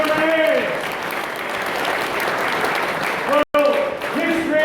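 An audience applauds the master of ceremonies at a centenary event marking the first direct wireless messages from the UK to Australia. Steady, dense clapping fills the room, and a voice comes over it near the start and again after a brief dropout.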